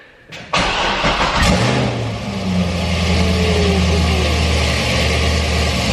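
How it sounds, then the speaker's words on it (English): A Corvette Z06 cold-starts: a starter whir, then a loud bark as the engine catches, settling into a high, steady rumbling idle close to the microphone with no talk. "start this thing up and you know, give you guys a little cold start. This thing's freaking loud"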